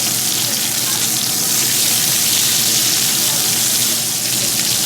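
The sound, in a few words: steak sizzling in a pan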